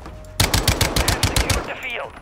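Rapid automatic gunfire in a video game sounds as one loud burst of about a dozen quick shots, followed by a short ringing tail.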